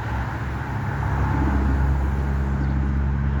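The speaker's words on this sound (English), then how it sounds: "we got these cars flying up and down the street, so the street's very busy." Busy street with cars driving by, a steady, loud roar of passing traffic holding throughout without a break, and no voices over it.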